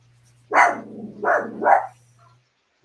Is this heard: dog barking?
yes